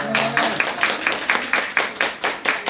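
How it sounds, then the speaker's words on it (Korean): Church congregation clapping in steady rhythmic unison after an infant baptism at a Sunday morning service, about a dozen crisp, evenly spaced claps heard close and loud. "박수로 축복하겠습니다."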